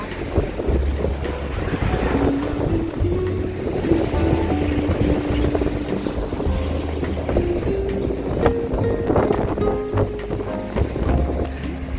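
Loud wind buffets the microphone in strong gusts by the sea in Odesa, with surf rolling in the background; roaring and continuous, no talking.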